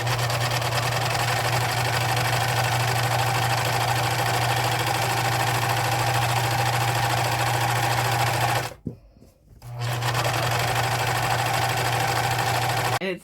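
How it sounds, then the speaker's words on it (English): A serger sewing machine seams coat pieces for a jacket, giving a fast, loud, steady mechanical whir that stops briefly for about a second, then resumes running at the same even pace. "give me just a minute and we'll get to serging."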